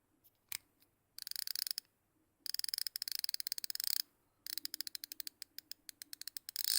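An LTT ratcheting screwdriver clicks in quick, close bursts of sharp ratchet ticks, several rapid runs separated by short pauses, with no talk.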